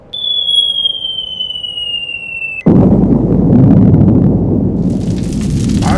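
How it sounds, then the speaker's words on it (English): Toy action figure adventure scene where a bomb hits a helipad: a steady high whistling tone gives way abruptly to a loud, sustained rumbling blast that roars on with crackling debris. "Bomb Weasel, get a bomb on the helipad"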